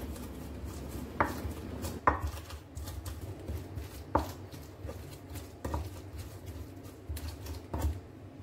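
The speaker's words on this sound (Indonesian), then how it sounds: "Ini aku halusin dulu, aku ulek dulu ya, cuma dikit, jadi nggak usah pakai blender." Garlic and shallots being ground by hand in a mortar with a pestle while cooking chicken dishes: a few sharp, irregularly spaced thuds and scrapes stand out over a quiet kitchen background, with no talk.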